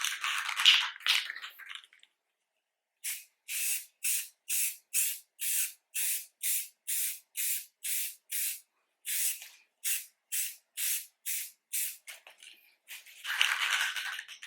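Short bursts of spray paint applied in very light coats to faded car plastic trim, about eighteen even hissing puffs in a steady rhythm, close and clear, with a longer hiss at the start and end and a brief pause midway.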